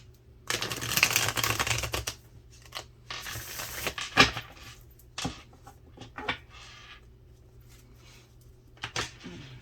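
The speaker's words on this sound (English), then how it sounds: "I'm gonna throw the cards today" Tarot cards being shuffled for a reading: a few short bursts of riffling and flicking, close and soft, with quiet pauses between them.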